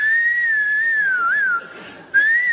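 A person whistles a sustained high, slightly wavering tone imitating ear ringing from a damaged eardrum, close and steady, breaking off for about half a second before resuming.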